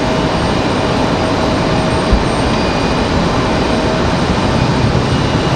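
Loud, steady roar of a JetBlue Airbus A320 jet airliner departing Raleigh-Durham International Airport, a continuous broadband engine rumble filling the whole clip without let-up.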